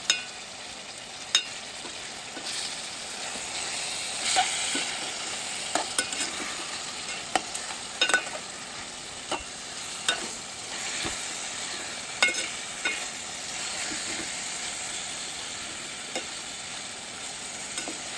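Fish pieces frying in a pan for fish curry and being turned, a continuous close sizzle broken by sharp scraping knocks of a utensil against the pan at irregular intervals.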